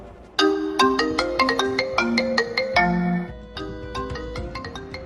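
A melodic mobile phone ringtone plays nearby, a bright sequence of plucked electronic notes repeating in a lively pattern.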